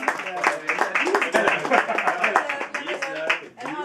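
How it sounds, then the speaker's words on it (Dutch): Scattered clapping at a 50th birthday party, heard as sharp hand claps mixed under lively talk and chatter from the guests nearby. "Applaus."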